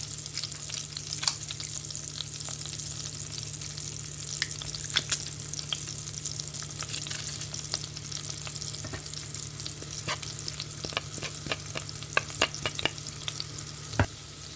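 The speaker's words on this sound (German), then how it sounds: "Das Ganze wird dann auf mittlerer Stufe kurz angeröstet. Dann kommt noch der Knoblauch" Basil and garlic sauté in olive oil over medium heat for a homemade tomato sauce. A steady close sizzle crackles throughout with scattered sharp pops and occasional stirring scrapes, and no one speaks.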